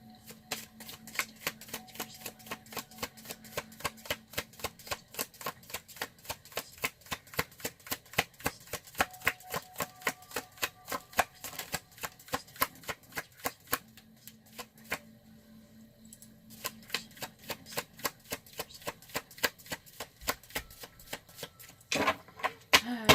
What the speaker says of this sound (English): I know some people hate the shuffling and some people don't mind it.